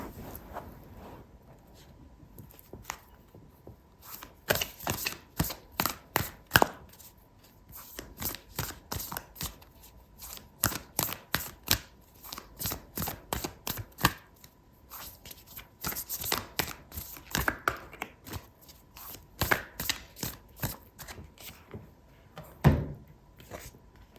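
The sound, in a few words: shuffling oracle cards for a tarot reading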